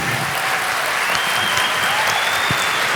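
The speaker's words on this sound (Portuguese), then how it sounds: "aplauda." A class of students at an exam review session claps together in a loud, steady wash of applause that fills the whole stretch without pause.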